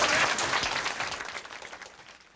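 Applause from a crowd at a 1982 Little Axe school gathering, a steady wash of many hands clapping that slowly fades over a couple of seconds.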